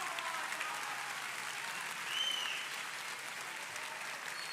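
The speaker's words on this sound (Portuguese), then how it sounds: "Pode aplaudir Jesus aí." A crowd applauds steadily for several seconds, a dense even patter of clapping at a moderate distance without speech.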